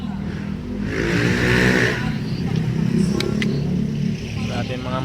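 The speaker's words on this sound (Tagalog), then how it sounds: "Grabe mga motor na ito." Motorcycles rev and rush past outdoors at an Easter Vigil gathering, a loud swelling engine roar that peaks then trails off into a continuing rumble.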